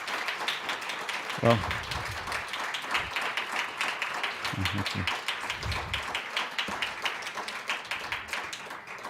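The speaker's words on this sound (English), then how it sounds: "For the camera, that was an applause" A lecture audience claps in a scattered, moderate patter of applause, with someone speaking briefly over it and a few louder taps standing out.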